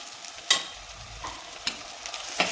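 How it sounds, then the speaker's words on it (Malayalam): Onions and two green chillies frying in a pan are stirred with a spoon, a soft sizzle under four or five sharp scraping strokes spaced about a second apart, close and with no voices. "ഇതെല്ലാം കൂടിയിട്ട് നമുക്ക് നന്നായി ഇളക്കിയെടുക്കാം."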